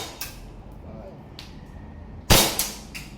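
WE Hi-Capa 3.8 Brontosaurus airsoft gas pistol firing: one sharp, loud crack near the end, preceded by a few fainter clicks and ticks against a low room background.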